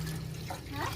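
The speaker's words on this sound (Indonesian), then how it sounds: "kita tuangin airnya ya" Water pours steadily into a cooking pot while making boba drinks, a brief continuous splashing rush heard up close.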